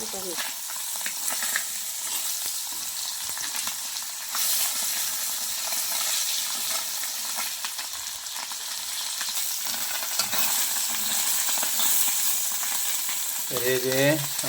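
River fish such as khadas, male and pichlandi fry in oil in a pan, giving a steady, loud sizzle that runs throughout, with faint scraping at times and a brief voice near the end.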